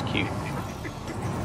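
Muscovy duck calls sound a few times amid steady background noise and people talking nearby.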